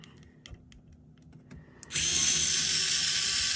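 A few small clicks and taps, then a power screwdriver whirs loudly and steadily up close, unscrewing the fans from an XFX RX 580 8 GB graphics card.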